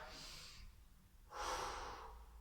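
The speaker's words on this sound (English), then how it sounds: "Take a relaxation breath." A slow, relaxed breath during a core exercise session: a soft inhale, a pause, then a longer, fuller exhale, close and quiet.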